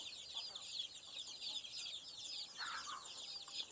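Chicks in a crowded poultry pen peep and cheep steadily in a dense, continuous chorus, with a few louder clucks near the end and no talking.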